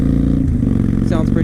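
A 2012 Victory Highball 106 motorcycle with a Victory Performance exhaust idles with a loud, steady low rumble throughout, briefly swelling in a slight rev near the end.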